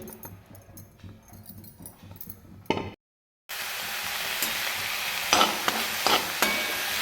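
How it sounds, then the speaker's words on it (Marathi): Onion frying in a kadhai on a gas stove, a steady sizzle with scraping stirs, broken by a brief silence before a louder, brighter hiss resumes with occasional clatters; no talking. "कढईमध्ये मी हा कांदा टाकते"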